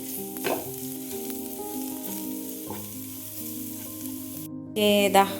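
A tomato and onion mixture is stirred in a frying pan while it cooks for a palak dish, with a soft, steady sizzle and occasional stirring scrapes under sustained musical tones.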